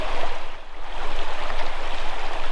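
A brook flowing beside a forest hiking trail, a steady, close, loud rush of splashing water that runs unbroken throughout with no voices.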